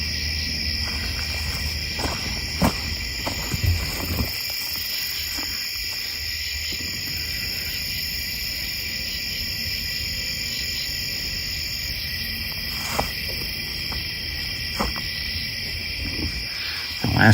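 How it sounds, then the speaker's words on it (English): Insects chirp outdoors after rain in a steady, high, continuous drone, with a few soft knocks and rustles nearby and no talking. "And hey, the bugs are coming out though."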